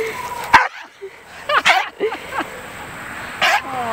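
A cattle dog gives a few sharp barks and yips in short bursts, close by, with someone speaking to it between them.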